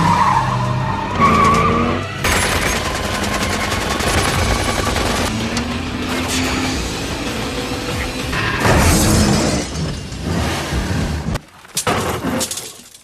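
Race car in a Death Race movie crash, loud and close: skidding tires, gunfire-like bursts and grinding metal impacts pile up in dense chaotic waves, with a sharp drop near the end before a final burst of noise.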